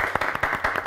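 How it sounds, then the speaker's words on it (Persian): A studio audience on a quiz show claps in a brief burst, a loud close patter of hands. "تشویق کنین"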